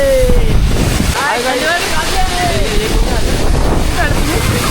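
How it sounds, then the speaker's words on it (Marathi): Strong wind gusts at Chondhe waterfall near Shahapur, Thane, buffeting loudly and continuously while voices call out over the roar. "ए कसं वार आहे भाई"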